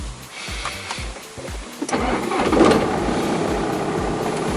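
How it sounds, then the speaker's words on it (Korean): A BMW 420d diesel engine clatters to life and settles into a steady, rough idle, close and fairly loud, with no voices. "떨떨떨떨떨떨 거리는 디젤 엔진음이 날 반긴다."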